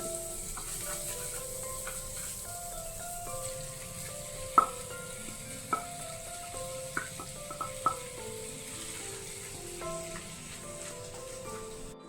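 Cleaned prawns for a Kerala-style prawn roast fry in a pan with curry leaves and salt, making a soft, steady sizzle with a few sharp pops and spatula clinks standing out now and then.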